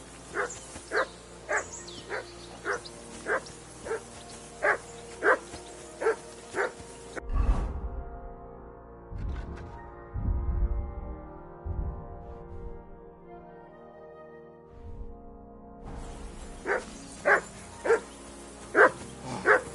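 A dog barks repeatedly in a steady rhythm, then pauses amid a low droning foghorn-like tone before the regular barking resumes, moderately close.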